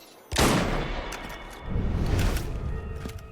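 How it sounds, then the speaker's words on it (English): A firearm shot in Assassin's Creed Unity, one sharp loud blast followed by a rumbling tail and a second muffled burst of noise, with no speech. "now we can use a firearm here"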